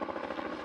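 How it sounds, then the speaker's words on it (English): A helicopter used to move beehives between remote blocks in New Zealand makes a steady, moderately faint rotor drone with a soft rapid pulsing beat, heard alone. "The helicopter is an important part of Rob's operation."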